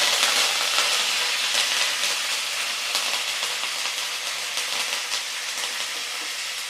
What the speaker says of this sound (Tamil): கருவேப்பிலை கழுவி வச்சுருந்தேன், ஈரமாக இருந்ததுனால அப்படி தெரிக்குது